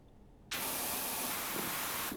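A loud, steady hiss of water spraying onto a car's roof in a car-washing video game starts abruptly and holds nearly constant to the end, close and alone with no talking.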